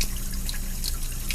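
Raw creek water flows steadily into a water treatment plant as influent, a continuous broadband rush with faint drip-like splashes over a low mechanical hum, close and constant.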